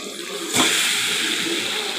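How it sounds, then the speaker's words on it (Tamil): Chicken pieces dropped into a pan of frying onion and tomato for a chicken gravy, setting off a sudden loud, steady sizzle that hisses on until the end. "இப்போ பாருங்கள், நான் இப்போ நம்ம சிக்கன் சேர்த்திக்கிறேன்"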